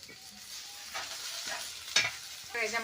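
Onions frying in hot oil with turmeric and spice powder in a home kitchen, stirred now and then; a soft, steady sizzle with scraping stir strokes near the close, moderately quiet and without talk.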